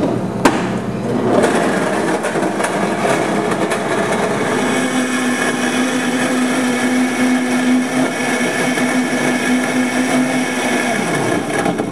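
A blender whirs steadily as it purees acai, frozen banana, apple juice and soy milk, loud and continuous throughout with a pitch that settles partway through, no talking.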